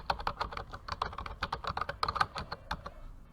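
Fingers typing steadily on a computer keyboard, a close run of quick, crisp key clicks with an even rhythm and no talking.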